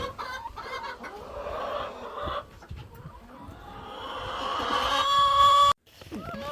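Pasture-raised laying hens clucking and murmuring close by, a busy overlapping chorus that rises toward the end before a brief cut, with no talking.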